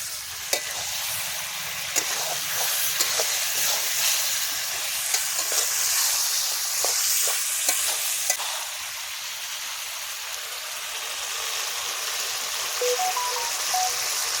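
Chicken kosha stir-fried in a pan while cooking outdoors with friends, a continuous close sizzle with scattered clicks and scrapes from the stirring spoon throughout.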